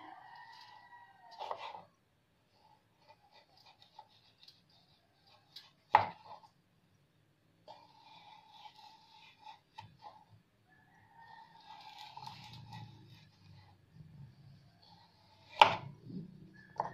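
Fresh turmeric root, washed clean, being sliced on a board with a knife: sparse, irregular chopping taps, a few sharper louder knocks, near and alone without talk.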